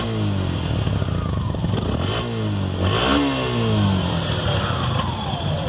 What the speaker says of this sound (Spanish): Les voy a dar mi opinión sincera acerca del sonido de esta motocicleta.